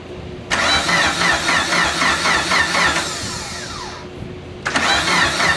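Repeated rhythmic cranking of a turbocharged car engine being bumped over, loud and close, with a starter whir winding down before a second burst of cranking.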